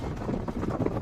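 Wind buffets the microphone in a moving vehicle, a steady low rumbling roar that swells and dips and fills the whole clip without a break.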